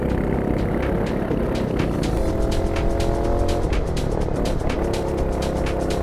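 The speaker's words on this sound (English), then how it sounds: "first ever drive in the new car" A car in a racing video game, on its first drive, roars through revs and gear changes with a continuous engine drone and occasional tire squeal, loud and steady throughout with no talking.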